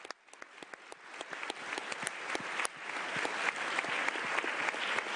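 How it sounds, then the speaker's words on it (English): Audience applause at the 2022 Young Activists Summit at the United Nations in Geneva, a dense wash of many hands clapping that swells steadily louder over several seconds, with no voices over it. "A round of applause."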